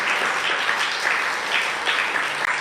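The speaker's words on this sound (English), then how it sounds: "a round of applause for all of our volunteers." A crowd at an annual membership meeting applauds its volunteers with dense, steady clapping that fills the room at an even level throughout.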